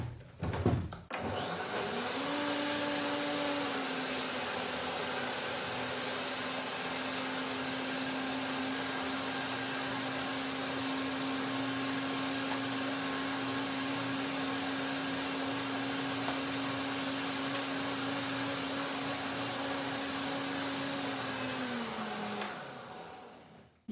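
A blender purees chili coconut pea soup with onion, Himalayan salt and chili powder, a steady close whirring drone that spins up, runs for about twenty seconds and then winds down.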